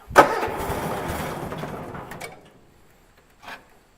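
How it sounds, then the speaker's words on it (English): A Cub Cadet lawn tractor engine being repaired cranks and briefly catches with a loud burst that fades after about two seconds, followed by a faint short knock. "So let's give it a start up and see what we get here."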